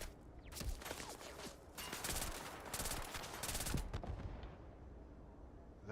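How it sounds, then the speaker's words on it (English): Sustained bursts of rapid gunfire in Starfield combat, loud and dense for several seconds before tapering off, with no one talking over it. "Oh, you're shooting at me."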